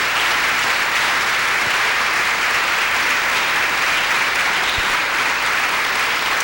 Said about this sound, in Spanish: Denle el aplauso al Señor con todo su corazón